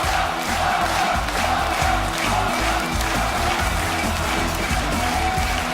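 A loud, dense crowd roars and cheers steadily throughout at a StarCraft 2 WCS Premier League quarterfinal, Protoss versus Zerg, a thick wash of massed voices with no break.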